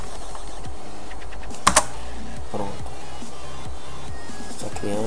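Computer keyboard typing while setting up an Android 4.2.2 install on a PC: a near, steady patter of key presses with a couple of sharper louder clicks near the middle and faint background noise.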